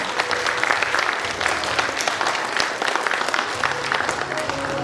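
Audience applause fills a hall at a gala concert for an interethnic recitation contest in Novosibirsk, a dense, steady wash of clapping that holds nearly level throughout with no voices on top.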